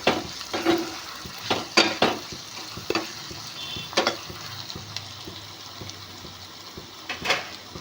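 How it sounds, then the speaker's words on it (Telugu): Prawns and onions fry in a pan, a low, steady sizzle broken by repeated sharp scrapes and clinks of a spoon stirring against the metal, close up with no voices. "ఇప్పుడు మనకైతే రొయ్యలు ఉల్లిపాయలు అనేది అయితే ఫ్రై అవుతున్నాయండి ఇంకా కొంచెం ఫ్రై అవ్వాలండి"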